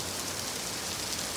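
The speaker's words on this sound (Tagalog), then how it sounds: "Nadapnan tayo ng ulan." Rain falls steadily outdoors in Norway, a soft, even hiss of drops with no distinct splashes or voices, fairly quiet and continuous.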